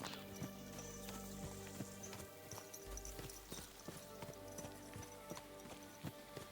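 Horse hooves clip-clopping in the medieval video game Kingdom Come Deliverance II, a steady rhythmic clatter of hoofbeats over layered game ambience and music-like tones, fairly quiet overall.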